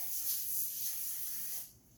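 A steady, airy hiss of cooking spray onto a parchment-lined cheesecake pan, lasting under two seconds, close and fairly soft, cutting off abruptly at the end.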